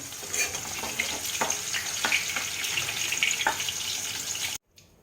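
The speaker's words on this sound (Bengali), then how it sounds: "সর্ষের তেল গরম করে আমি করলাগুলোকে ভেজে নেব" Bitter gourd sizzles and crackles in hot mustard oil, a close, moderately loud frying hiss with scattered pops and stirring clicks, cutting off abruptly at the end.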